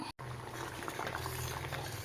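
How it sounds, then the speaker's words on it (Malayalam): Erissery curry of yam, green beans and raw papaya bubbles steadily in a pot, a close, continuous simmering burble with a brief dropout near the start. "ഒരു കുറച്ച് സമയം അവിടെ ഇരുന്ന് അതൊന്ന് യോജിച്ച് തിളച്ച് വെള്ളം പറ്റട്ടെ"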